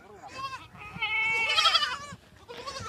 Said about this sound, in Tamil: ஆட்டு குட்டி